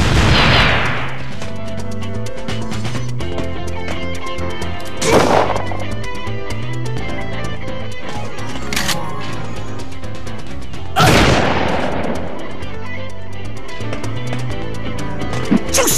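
A Fire Sling attack in the Arc the Lad: Twilight of the Spirits video game lands in three sharp explosive bursts, spaced several seconds apart, over steady battle music.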